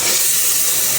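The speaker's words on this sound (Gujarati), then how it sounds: "ટમેટા નાખી દીધા, ફ્રાય કરવાના છે." Chopped tomatoes and chillies fry in a hot pan with cumin, producing a loud, steady sizzling hiss that fills the whole brief moment, close up and with no voices.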